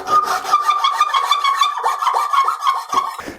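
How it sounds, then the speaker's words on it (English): A hand file rasps across a wooden nut in a rhythmic series of quick scraping strokes, close and fairly loud, each stroke a short gritty rub with brief gaps between. "But for all the other surfaces, we're going to have to use a file."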